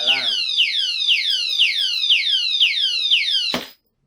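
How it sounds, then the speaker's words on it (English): A motorcycle alarmed padlock, triggered by pulling its shackle, wails a shrill electronic alarm in rapid repeating downward sweeps, loud and close, then cuts off abruptly. "when somebody pull the shackle,"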